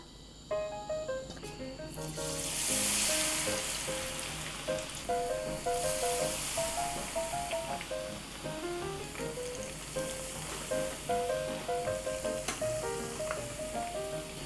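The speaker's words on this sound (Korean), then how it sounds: "한 170도에서 튀겨주시면 될 것 같아요" Korean fatsia shoots (dureup) deep-fry in oil at 170°C, giving a steady, bright sizzle and crackle that runs continuously at moderate volume beneath light background music.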